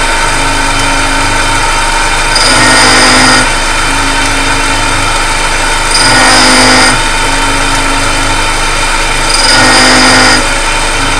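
A tool and cutter grinder runs loud and steady, its wheel grinding a cutter tooth in three brighter, harsher passes of a few seconds each over a constant motor whine, no voices.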